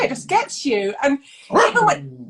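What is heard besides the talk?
dog barking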